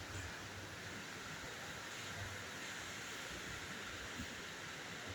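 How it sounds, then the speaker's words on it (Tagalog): Heavy rain pounds steadily on a leaky roof, a dense, continuous hiss with no breaks and no voices. "Lakas ng ulan."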